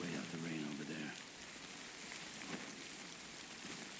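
Rain falls steadily in the video game Death Stranding, a soft continuous hiss of drops on surfaces, with a faint voice-like tone briefly at the start.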